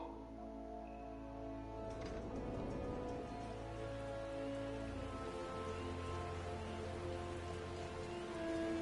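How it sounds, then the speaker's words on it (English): Soft, steady rainfall patters on surfaces in the Final Fantasy XIV game, arriving at Gridania, with low sustained tones and faint ambient music underneath; no talking. "It's raining."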